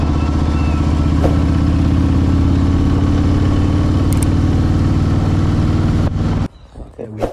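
Motorbike engine running steadily with a loud, continuous harmonic drone on a canyon road trip, holding for about six seconds before cutting off abruptly, leaving quieter rustling and handling noise.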